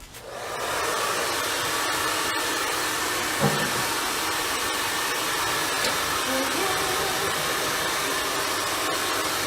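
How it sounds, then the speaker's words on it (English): A hair dryer blows continuously to dry a wet craft piece, a loud, steady whooshing roar that starts abruptly and holds at an even level. "I'm going to hit it with the hair blower. It's going to get a little loud, but it won't happen for long."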